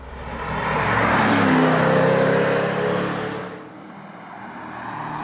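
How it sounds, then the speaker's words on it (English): A Chevrolet Corvette with a naturally aspirated engine drives past, a rising, revving engine note that swells loudly and then eases off as it fades, with no talking. "The engine is, as we often say with naturally aspirated motors, sensational."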